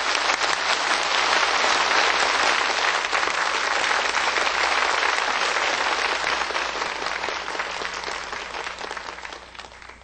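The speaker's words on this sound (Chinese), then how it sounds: "好，就让我们以最热烈的掌声恭请师父开示。" Warm, thunderous audience applause in a large hall welcoming a spiritual master, a dense, continuous roar of clapping from many hands that slowly tapers off.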